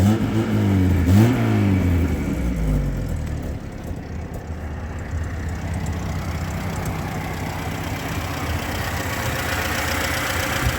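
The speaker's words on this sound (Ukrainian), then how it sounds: "Моторчик робить чудово." A Renault 9 engine revs up sharply twice near the start, then settles into a steady, loud idle hum for the rest.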